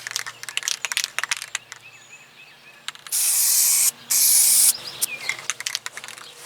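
An aerosol can sprays a final coat of paint onto a car engine in two long, loud hissing bursts, preceded and followed by clicks, rattles and handling noises up close.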